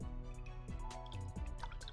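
Corn tea dripping and splashing as it is poured into a cup, close and clear, with wet droplet sounds over a steady liquid stream and no talking.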